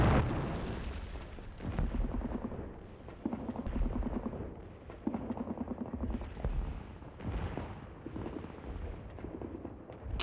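Artillery fire and explosions from the online war game Men of War Online, a series of deep, booming blasts and rumbling bursts recurring every second or two, fairly loud and without speech.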